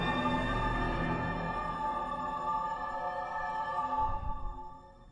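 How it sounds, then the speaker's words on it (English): Viacom 'V of Doom' logo jingle: a low rumbling drum roll sustains beneath eerie, droning keyboard chords, loud throughout, before the tones thin out and a final low thump sounds near the end. "Every time I hear that damn drum roll and that bizarre keyboard accompaniment that goes with it."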